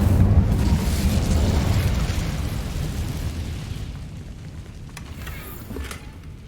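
Incendio fire spell cast in the Hogwarts Legacy video game, a loud whooshing burst of flame that starts at full strength and slowly fades, with a few soft crackling pops near the end.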